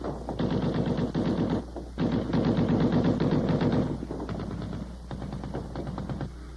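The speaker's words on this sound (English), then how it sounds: "One weapon we get to know very well was the .50 caliber machine gun." .50 caliber machine gun fire rattles in long, rapid bursts with brief gaps, loud and continuous over a low background rumble.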